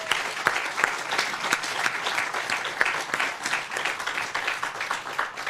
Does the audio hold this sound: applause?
yes